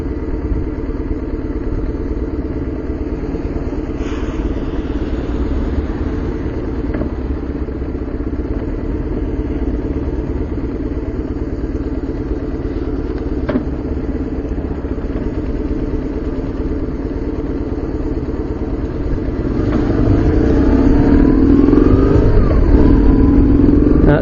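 A motorcycle ride on a charity road run, with a steady engine drone and heavy wind rumble throughout; the engine rises in pitch and grows louder toward the end as the bike accelerates.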